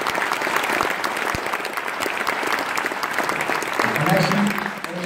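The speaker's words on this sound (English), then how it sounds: "So give a round of applause to them" Applause from an audience at a gaming event, sustained dense clapping that swells slightly toward the end, with some crowd noise mixed in.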